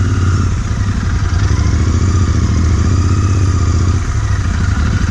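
Royal Enfield Interceptor 650 motorcycle ridden off-road on slippery grass, its engine a loud, steady, close-up thrum with a rhythmic low pulse that holds throughout, alone without talk.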